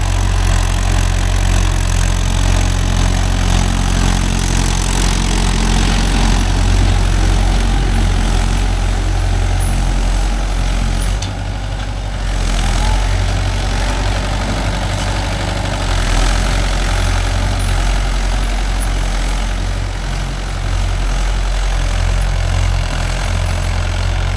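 A Mahindra Yuvo Tech Plus 585 DI 4WD tractor's diesel engine drones loud and close for the whole stretch, a steady low rumble with a brief dip partway through.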